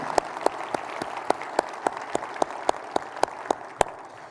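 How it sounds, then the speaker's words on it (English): Sparse, evenly spaced hand claps ring out at a military luncheon keynote, a slow steady beat of single sharp claps over a faint room murmur rather than a full ovation. "A round of applause for them, please"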